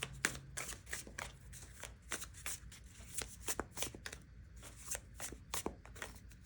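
Tarot cards are shuffled by hand in quick, irregular riffling and flicking bursts, close and quiet, with no voice.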